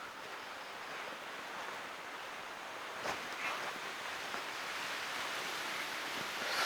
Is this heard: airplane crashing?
no